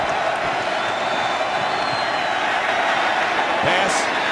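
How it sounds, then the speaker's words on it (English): A football stadium crowd roars steadily at a Vikings at Redskins game in 2012, filling the whole stretch as a loud, even wash of cheering under a commentator's voice. "this crowd on its feet"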